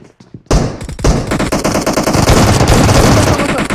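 Automatic gunfire from a battle royale video game: a few sharp shots, then a loud, sustained burst of rapid, rattling fire.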